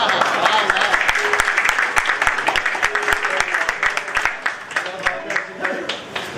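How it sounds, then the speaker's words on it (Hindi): Audience at an annual award dinner breaks into loud, full applause that starts dense and thins toward the end into scattered individual claps, with some crowd murmur underneath. "एक दफा और तालियां हो जाए,"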